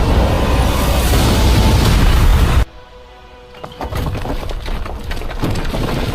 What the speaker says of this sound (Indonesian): hingga menyebabkan terjadinya ledakan ganas di arena